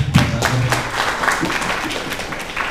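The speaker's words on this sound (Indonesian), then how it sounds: "Tepuk tangan" Audience applause at a property developer workshop, a crowd clapping continuously at moderate volume, with a few voices briefly audible under the clapping near the start.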